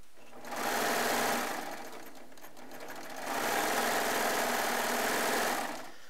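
A Baby Lock serger sewing fabric, running in two steady buzzing bursts with a short quieter pause between, close and even, no voices.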